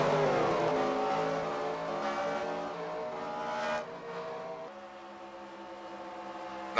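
Race car engines in a racing video game rev and accelerate hard on a restart to green, late in the race, a loud, steady rising drone of several motors that shifts pitch midway and then settles.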